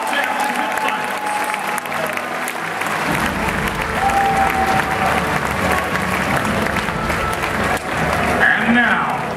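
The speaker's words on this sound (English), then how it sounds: "One more round of applause for our 2013 World Championship Finals." A large audience applauds at the closing ceremony of the 2013 Pokemon TCG World Championships, a dense, loud, sustained wash of clapping and cheering, with an announcer's amplified voice heard over it.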